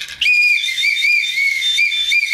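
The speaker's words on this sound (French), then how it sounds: "vous mettez dans la bouche et vous sifflez" A small safety whistle blown in one long, steady, piercing shrill tone that starts abruptly and holds close and loud for about two seconds, with no voices over it.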